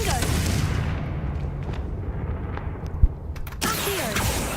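A Confringo fire-blast spell in Hogwarts Legacy gives a low rumbling boom with a sharp crack midway. Dense magical whooshes and rumble sit around it, and a voice talks over the scene.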